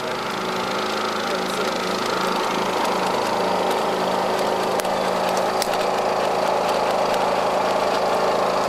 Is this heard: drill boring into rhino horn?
yes